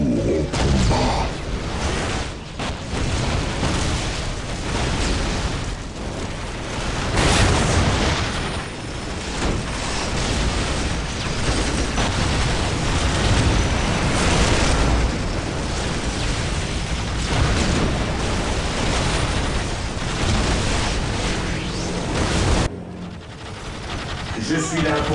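Gunfire and explosions fill a battle between Blood Ravens and Orks in the strategy game Dawn of War, a dense and loud roar of shots and blasts that runs almost without a break, with voices talking over it.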